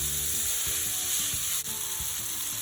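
Chopped vegetables for a veg burger sizzle steadily in a hot pan, a dense continuous frying hiss with a few soft stirring scrapes and clicks, close and unbroken, no voices.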